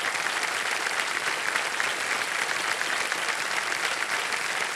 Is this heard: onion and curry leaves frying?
no